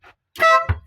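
A vehicle horn sounds once after its socket is replaced, giving a short, loud, close honk with a faint click before it and a brief thump after.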